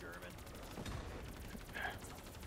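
A tank shooter video game plays quiet, rapid rattling bursts of gunfire with rhythmic mechanical pulsing, under faint background hum and a few scattered noises, fairly low in level.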